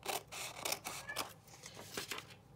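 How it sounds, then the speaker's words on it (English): Scissors snip around the edges of paper letters cut out for journal doodles, a series of quiet, close crisp cuts and rustles in irregular rhythm with no talking. "Just take my scissors and run them kind of along the edge of the letters."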